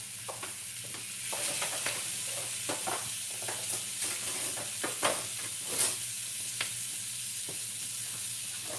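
A lettuce-wrapped burger patty searing in a hot pan, a continuous bright sizzle with scattered pops and spatters, steady and close with no talking.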